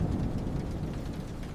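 A thunderstorm with steady rain: a dense wash of falling rain joined by a deep rolling rumble of thunder, continuous and close for the short stretch, with no talk.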